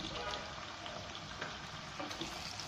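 Chicken pieces are stirred into onions frying in a pan, giving a steady, close sizzle with soft scraping from the spoon and no talk.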